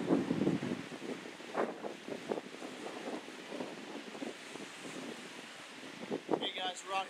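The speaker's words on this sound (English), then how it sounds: "As you can see, it's super windy, about to rain" Strong wind buffets the microphone on the bank of the Hudson River during a fishing outing as rain threatens, with steady rumbling gusts throughout and a brief voice near the end.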